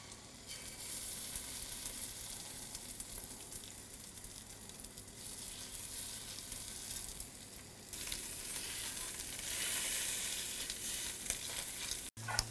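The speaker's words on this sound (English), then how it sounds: "we're just going to sort of sear it off and colour it" Rabbit pieces searing in a hot pan for a Northern Italian braise, a steady loud sizzle of frying meat that swells near the end, with no talk.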